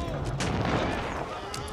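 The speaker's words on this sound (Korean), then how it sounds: "일단 대포 화력 나름 효과를 발휘하고 있어요" Cannon fire booms in an Age of Empires IV match, a continuous battle din of blasts and gunfire. A commentator talks over the combat.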